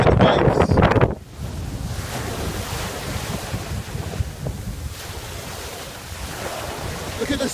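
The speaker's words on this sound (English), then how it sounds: "before we come down into the sea and look at the waves" Ocean waves at the sea on an October day, a continuous wash of surf mixed with heavy wind buffeting the microphone, loudest in a brief gust at the start and then rolling steadily.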